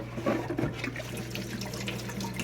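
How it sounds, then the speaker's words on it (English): Cool tap water runs over the filter parts of a Fluval 306 aquarium canister filter, a close, steady splashing stream with small shifts as the parts move under it, with no voices. "just to run some cool water on it"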